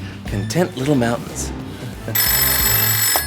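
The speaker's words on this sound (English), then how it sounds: "That's the phone." A telephone starts ringing with a bright, steady electronic trill that continues to the end, right after someone speaks.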